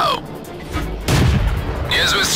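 A tank cannon firing in the World of Tanks video game, with a loud low boom at about one second and its rumble carrying on under game sounds and voice lines.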